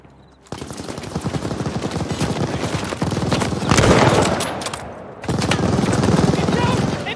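Machine gun fire rattles from a half-track in the Call of Duty Vanguard video game, loud rapid bursts with a short break partway through, mixed with booms and the sounds of battle.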